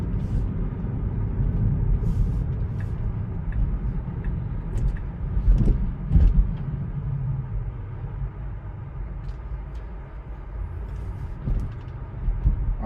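A Tesla rolls slowly into a supercharger spot, its low rumble steady throughout, with faint scattered clicks and knocks rising around the middle.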